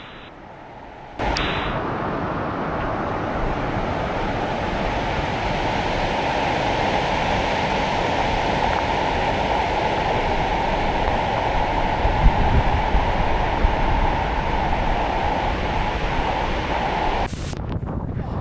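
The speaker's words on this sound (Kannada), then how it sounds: "ನಾವು ವಾಟರ್ಫಾಲ್ ಬೇಸ್ ತಲುಪಿದ್ದಾಯಿತು" A 360-foot waterfall heard from its base in the rainy season, with strong wind: a loud, dense, unbroken roar of falling water that swells in after a brief quieter start and holds steady.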